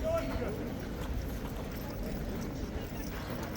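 Hooves of a loose King's Guard horse clip-clop on a street at some distance, a faint irregular clatter under steady background noise and crowd murmur.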